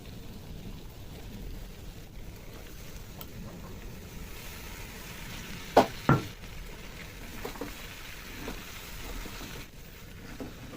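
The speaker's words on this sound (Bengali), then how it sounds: "এখন আমি পাস্তাটা দিয়ে দেবো পাস্তাগুলো দিয়ে দেবো" Pasta is tipped into a pan of boiled potatoes with a dried-down sauce, giving two quick clattering drops mid-way over a faint, steady frying hiss.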